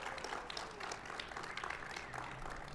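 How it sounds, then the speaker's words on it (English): Gala audience applause for Chunyan at a fundraising event, heard as a faint, steady wash of many hands clapping throughout, distant and even. "Let's give another round of applause to Chunyan"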